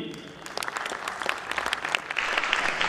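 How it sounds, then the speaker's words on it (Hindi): A concert audience applauds to welcome a guest onto the stage, starting as scattered claps and building into dense, loud, sustained clapping by the end. "मैं चाहूँगा आपको जोरदार तालियों से उनका स्वागत करना है"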